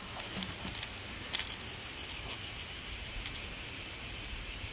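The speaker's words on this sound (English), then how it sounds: "you hear the cicadas everywhere. Listen to this." A steady, shrill cicada chorus buzzes continuously in the south of France, with a few brief louder pulses rising above the constant drone; no voices.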